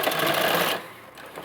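A sewing machine stitches lace onto a small girl's Patiala kurti, running in a quick close whir for under a second before stopping, leaving faint room noise.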